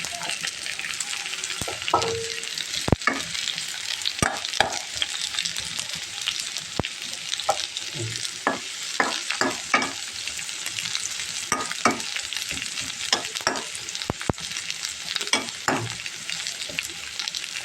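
Onions frying in hot oil in a pan, a continuous crackling sizzle that runs throughout, broken by frequent sharp clicks and scrapes of a spatula stirring, close up.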